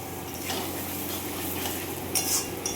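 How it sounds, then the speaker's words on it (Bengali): Spices being fried and stirred in a pan for chicken curry, a steady low sizzle with soft scraping strokes and a few brighter utensil clinks near the end, close and fairly quiet, with no talking. "একদম মশলা কষানো চলছে।"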